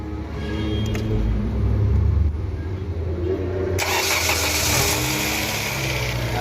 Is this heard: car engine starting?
yes